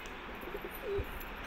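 Pigeons drinking medicated water give a faint, brief coo over a steady background hiss, with no talk.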